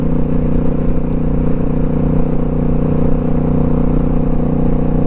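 A motorcycle cruising on open country roads gives a steady, loud engine drone with rumbling low tones and wind noise that holds even throughout, with no talking.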